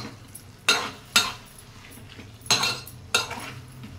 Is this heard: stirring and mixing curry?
yes